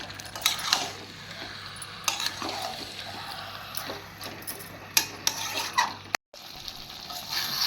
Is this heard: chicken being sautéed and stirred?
yes